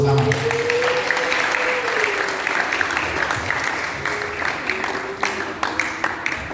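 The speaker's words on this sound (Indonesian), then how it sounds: "Mari tepuk tangan buat Tuhan bersama-sama." A church congregation at a Christmas service claps together in sustained applause, with a held sung or hummed tone running beneath and the clapping loosening into individual claps near the end.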